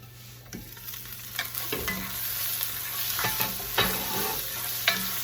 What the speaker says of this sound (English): I'm hearing the onions cooking